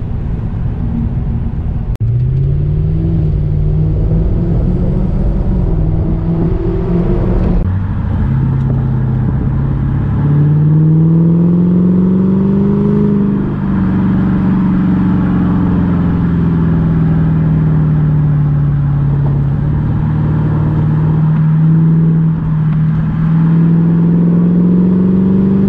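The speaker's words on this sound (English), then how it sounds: "So, I mean, honestly, you mostly hear intake sound." A Lexus GS400 with a Borla exhaust drones up close, its intake roar rising and falling as the car accelerates in repeated pulls, steady and loud throughout.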